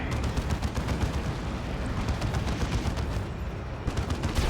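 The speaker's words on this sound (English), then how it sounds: "That Bright Lance just kind of firing away there" A Bright Lance weapon fires continuously in a Warhammer 40,000 battle game, a dense, rapid crackle of shots and blasts that stays loud and busy throughout with no pauses.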